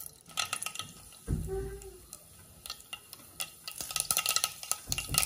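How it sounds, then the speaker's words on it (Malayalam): Mustard seeds crackling in hot oil in a pan while a Kerala-style squid roast is cooked: a quiet scatter of sharp pops and ticks over faint sizzling and a brief stir, growing busier toward the end. "നമുക്കിനി കടുക് പൊട്ടിക്കാം"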